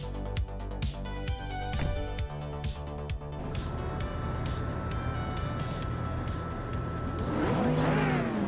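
Race cars in a video game tear around a figure-8 track, their engines roaring continuously with squealing tires and a rising, whining sweep of revs near the end.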